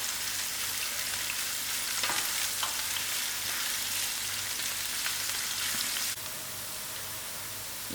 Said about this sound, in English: I'll allow these onions to fry a little.